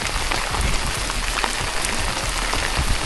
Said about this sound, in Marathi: पाऊस खूप जोरात पडतोय